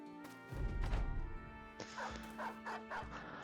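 Dogs in the combat video game Battle Brothers bark and yip in a few sharp clustered calls amid thuds and impact sounds, moderately loud over a faint background tone.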